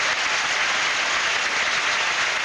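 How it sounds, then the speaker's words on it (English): A tennis crowd applauds a save, with Chilean supporters among them. The clapping is dense and steady, a continuous wash of hands at an even level with no voices over it. "I think even the Chilean supporters were applauding that"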